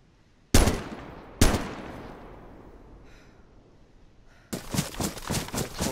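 Two sharp gunshots ring out a second apart in the video game DayZ, echoing and decaying, followed by a rapid burst of automatic fire near the end.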